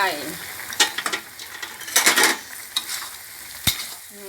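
Chicken and potato red curry, made without coconut milk, stir-fried as red chili and kaffir lime leaves are sprinkled in. A spatula scrapes and clinks against the pan over a steady sizzle, with a few sharp knocks, close up.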